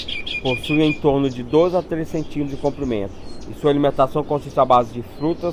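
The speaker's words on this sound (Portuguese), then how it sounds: "Esse foi o canto da espécie de Geospiza fortis" A medium ground finch (Geospiza fortis) of the Galápagos Islands sings repeated chirping notes in quick bursts, heard faintly beneath continuous narration in Portuguese.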